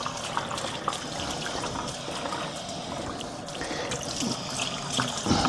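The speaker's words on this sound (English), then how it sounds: "we're gonna get my hands all washed up" Water runs from a sink tap over hands being washed in a home kitchen, a close, steady trickle and splash with no one speaking.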